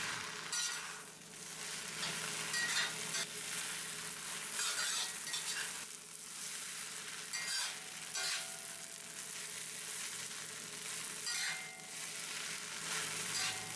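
Ramen noodles and fresh spinach stir frying together in a pan, a steady moderate sizzle with stirring scrapes rising and falling, quiet and close, no talking.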